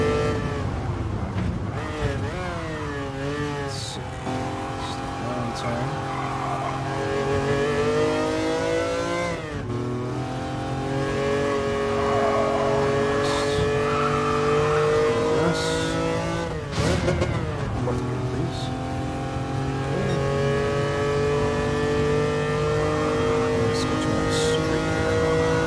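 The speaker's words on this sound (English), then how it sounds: "it's got 185 horsepower at the rear through a naturally aspirated 4-cylinder" Naturally aspirated 4-cylinder engine of a rear-drive car with 185 horsepower in GT Sport, droning steadily throughout with rising and falling revs and shifts, fairly loud, with occasional talk over it.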